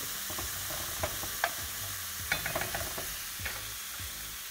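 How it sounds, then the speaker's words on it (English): Onions and carrots fry in a pan over a fire, a soft steady sizzle broken by scattered scraping clicks as the vegetables are pushed out toward the sides, fairly quiet and close, with no voices. "What I like to do is move these onions and carrots out towards the sides"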